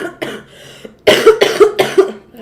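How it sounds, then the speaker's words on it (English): Several harsh coughs burst out in quick succession, loud and close, after a few fainter throat sounds, with no talking over them. "I should just end it with the coughing."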